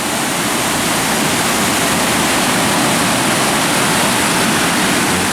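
The Cascades waterfall in Yellowstone pours through a dark, steep canyon. A loud, dense, unbroken roar of rushing water holds steady throughout, with no voices.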